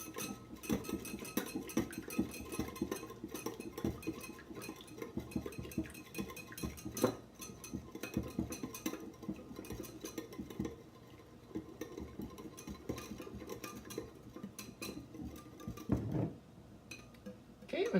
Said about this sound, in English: This we are going to stream in and whisk it as we go.